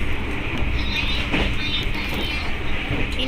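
Papandayan train carriages rolling along rails, a steady, continuous rumble with faint wheel noise from close by, no speech.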